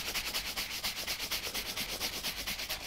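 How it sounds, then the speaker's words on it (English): A cloth rubbing moisturiser into exotic leather skin, a soft rhythmic swishing of steady back-and-forth strokes, close and fairly quiet. "let's just give that a few seconds of rubbing"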